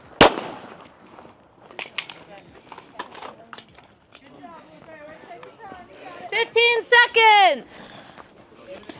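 Pistol shots ring out on a shooting competition stage, a few sharp cracks scattered among nearby chatter and movement, with people talking throughout.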